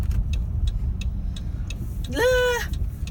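A car drives through a tiny town, its engine and road noise rumbling low and steady from inside the cabin. A turn signal ticks regularly, and a brief tonal chime or whine rises near the end.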